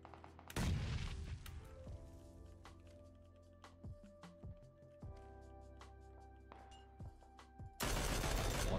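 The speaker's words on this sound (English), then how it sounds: "That grenade. That was such a good grenade by him." A grenade explosion and gunfire in PUBG, with a loud blast near the start, scattered sharp shots and clicks in between, and another loud burst at the end.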